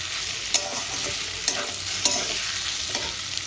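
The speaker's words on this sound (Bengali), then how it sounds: "কচুর লুচি আর আলুটা আমি দিয়ে দেবো দিয়ে মশলার সঙ্গে একটু কষিয়ে নেব" Taro stolons and potato tossed with spices in a pan for a catla fish dish: a dense close sizzle with a few sharp knocks of the spatula at irregular intervals, and no one speaking.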